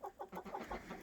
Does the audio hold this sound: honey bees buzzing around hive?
no